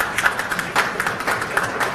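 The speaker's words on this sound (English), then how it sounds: "I notice the men are clapping very hard." Men in an audience at an economic consultation opening ceremony clap hard, a dense steady patter of many hands with louder bursts, continuous and close throughout.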